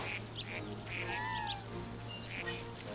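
Duck quacks in the video game New Pokemon Snap: a few short nasal calls repeat over a steady low game background hum, fairly faint.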